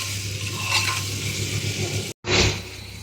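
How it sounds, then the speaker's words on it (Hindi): Chopped onions fry in a pan with a steady, close sizzle, broken by a few stirring scrapes and one brief cut in the sound. "तो फ्रेंड्स हमारा हो रहा है प्याज फ्राई"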